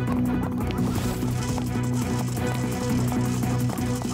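A chicken squawks repeatedly in a dense, loud tangle of clucking and honking cries, close by and continuous, in what sounds like a lively animated scene with other noise layered underneath.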